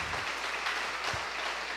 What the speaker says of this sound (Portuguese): Dá mais um forte aplauso a Ele.